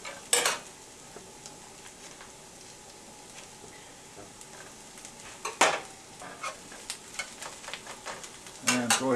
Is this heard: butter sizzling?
yes